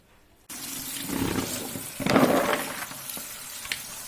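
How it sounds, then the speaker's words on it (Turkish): Water is poured steadily into a pot for rosehip marmalade in a home kitchen, a continuous splashing stream that starts abruptly and swells mid-pour, close and fairly loud with no talking. "suyumuzu koyduk arkadaşlar görüyorsunuz"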